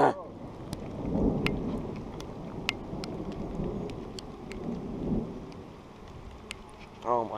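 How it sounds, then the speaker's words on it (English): Steady heavy rain pours during a fishing trip out on the water, with low rolling thunder rumbling beneath it and scattered sharp drops striking a nearby surface throughout. "Oh my gosh, rain, go away."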